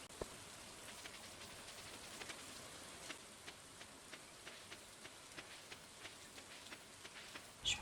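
Rain falls steadily in the Stardew Valley video game, a soft continuous patter with a string of faint, evenly spaced drip-like ticks, quiet and without speech.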